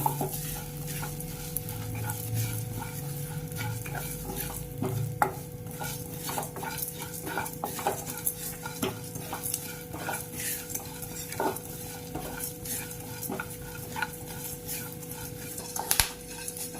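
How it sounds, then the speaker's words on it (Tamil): Whole cumin seeds and black pepper dry-roast in a pan as a utensil stirs them steadily, with soft scraping, faint crackles and occasional clinks over a low background hum. "இதெல்லாத்தையும் போட்டு ஃபர்ஸ்ட் நல்லா ரோஸ்ட் பண்ணி எடுத்துக்கலாம்."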